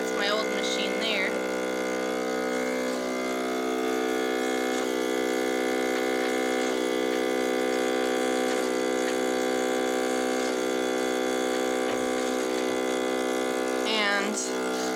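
Milk machine running at its top speed, a steady loud motor drone with a rapid pulsing rhythm held throughout, close by, with brief faint voices near the start and end.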